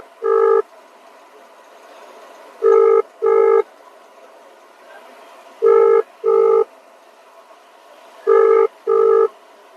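A telephone rings in repeated double bursts, three pairs spaced evenly apart with quiet gaps between, and nobody picks up.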